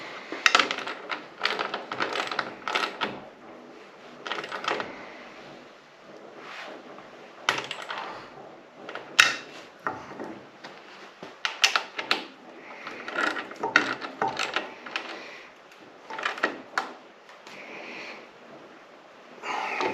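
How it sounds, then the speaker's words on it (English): A socket on a small ratchet tightens the caster bolts of a Harbor Freight Yukon 26-inch mobile workbench, irregular bursts of clicking and metallic handling close by, with quieter gaps between bouts of turning. "get each one of these with a socket and a little ratchet"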